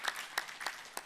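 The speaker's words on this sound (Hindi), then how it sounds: "तो जोरदार ताली ठोको मेरा ऐसे कैसे, दोनों हाथों से" An audience at a yoga gathering claps with both hands, loose bursts of applause rising and falling in a few quick waves, moderately near.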